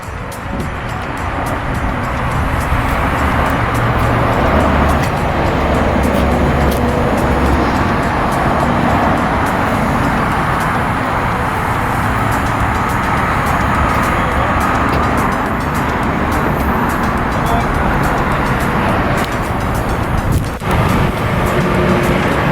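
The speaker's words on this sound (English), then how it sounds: "I'm letting Ephraim take it for a test drive" Lifted 2019 Ford F-150 on 35-inch tires and 22x12 wheels out on a test drive, a constant loud in-cab road and engine roar with wind noise that holds steady throughout, without talk.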